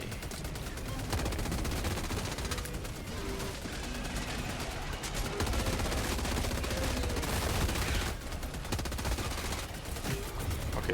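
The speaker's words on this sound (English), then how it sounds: "I really need this machine gun sentry to not die immediately" A machine gun sentry fires in the video game Helldivers during a fight against bugs, with rapid continuous bursts of automatic gunfire amid layered battle noise and explosions throughout.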